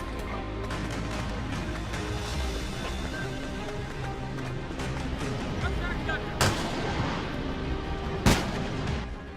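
Gunfire rings out during armed fighting: two sharp, loud cracks stand out late in the clip above a dense, rumbling din of battle noise.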